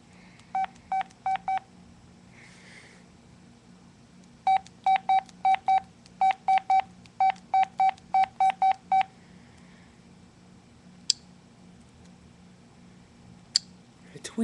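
Mobile phone keypad tones from typing on a phone's Twitter app: two quick bursts of short, evenly spaced beeps, a few then a longer run, close and clear over a low steady hum, with a couple of faint clicks after.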